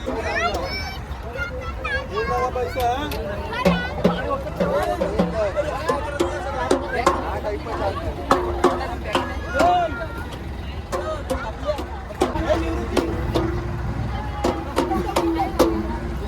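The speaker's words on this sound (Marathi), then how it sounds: "आता आपली पण बोट सुटणार आहे." A passenger boat about to leave on a Mumbai-to-Dighi trip, a steady low engine drone under lively nearby crowd chatter, children's voices and scattered clacks and knocks on board.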